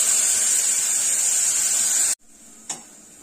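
Vegetables sauté with salt in a pan, giving a steady bright sizzling hiss that cuts off abruptly, followed by quiet and a single clink.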